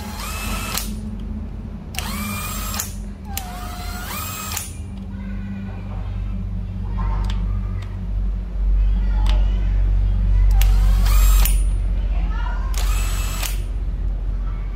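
A used Japanese cordless battery drill whirs in repeated short bursts, near and loud, alternating with low rumbling handling noise between runs.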